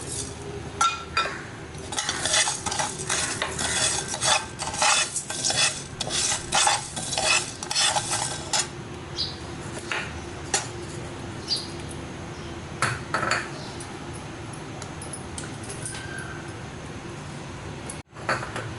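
Coriander and fennel seeds dry-roasting in a pan for mango pickle, with close scraping stirs and clinks of a spoon against metal over a light sizzle, busier early then thinning out, no talking.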